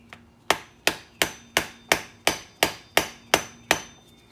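Ten sharp, evenly spaced hammer blows on a chisel, metal ringing against metal while a stuck ABS wheel sensor is worked out of a Lexus IS 250/350 hub, close and loud with no talk.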